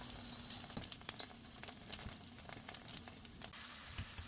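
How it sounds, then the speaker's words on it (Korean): Pumpkin leaves dipped in thin flour batter fry in an oiled pan, giving a soft, steady sizzle with faint crackles and pops throughout. "풀어놓은 밀가루에 호박잎을 이제 적셔서 반으로 접어서 구워줄 거예요."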